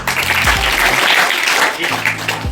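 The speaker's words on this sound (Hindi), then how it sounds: "नेक्स्ट कक्षा 5 जोरदार तालियां।" Loud applause from a school audience at an assembly, dense steady clapping filling the whole stretch without a break.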